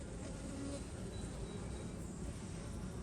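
Honeybees from a newly installed package colony buzz at an open hive in a dense, steady drone that stays close and continuous, with no other sound standing out.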